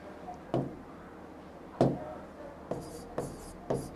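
Chalk or marker strokes on a classroom board during a reasoning lesson, heard as five short scraping bursts spaced about a second apart, fairly close and clear with no voice over them.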